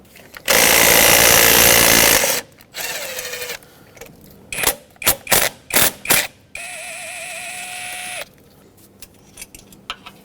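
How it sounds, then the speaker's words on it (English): Two long 8mm bolts come off the fuel rail on the intake manifold of a 2011-2016 Ford F-350 with a 6.2L V8, with bursts of a power tool whirring and a quick run of ratcheting clicks, close and loud, with no talk. "Now there are two 8mm headed bolts holding this fuel rail onto the intake manifold. Let's remove both"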